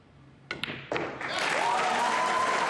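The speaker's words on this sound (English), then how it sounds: "Just listen to the crowd, listen to the noise." A crowd at the 2024 US Open Pool Championship semi-final erupts after a shot, a few sharp claps and thuds first, then a sustained wash of cheering and applause swelling and holding loud to the end, with a whistle-like tone riding over it.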